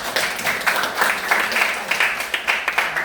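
A group of schoolchildren in a counseling class claps in a brief round of applause, uneven close claps with a little background chatter.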